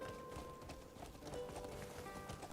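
Faint, quick hoofbeats of a horse moving along, soft and somewhat distant over a murky background hum.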